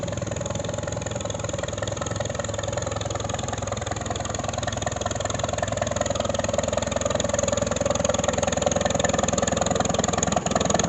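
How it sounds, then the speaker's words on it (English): A small McCormick tractor at an annual tractor show runs steadily at a constant, even idle, its engine a continuous mid-pitched hum without any revving for about eleven seconds, with no talking. "Now here's another McCormick little tractor."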